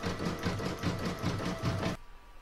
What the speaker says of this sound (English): now going to put that back in my machine and stitch round number 6